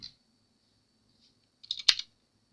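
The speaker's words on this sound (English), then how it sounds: "I'm going to type it out so you can follow along with that." A short burst of computer keyboard typing while entering Haskell code, a quick cluster of clicks near the end following a faint tap at the start, with quiet in between.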